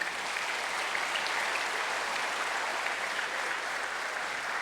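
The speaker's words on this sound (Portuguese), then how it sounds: "Você poderia dar mais um aplauso bem forte a Ele?" Congregation applause during a church service, a dense, steady wash of many hands clapping together at an even level throughout.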